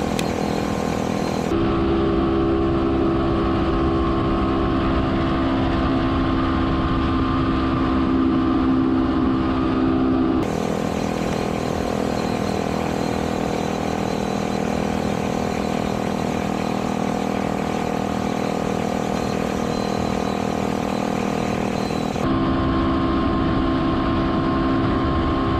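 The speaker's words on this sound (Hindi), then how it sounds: "थोड़ा लंबा रेस केजू साहब" Royal Enfield Bullet 350 and Bajaj Avenger 220 motorcycles racing: a continuous, loud engine drone with steady throbbing, shifting abruptly in tone twice as the bikes change pace.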